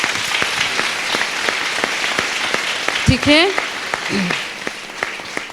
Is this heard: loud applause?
yes